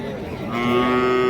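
A single loud, drawn-out moo from a Malvi bull, close by, rising into a steady tonal bellow over the busy murmur of a crowded cattle market.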